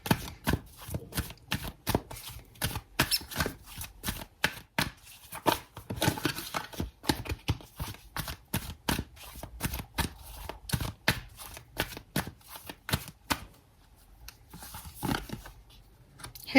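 A Wisdom Oracle card deck is shuffled by hand in a long run of quick, crisp riffling and snapping card bursts that are close and fairly loud, with a brief pause near the end.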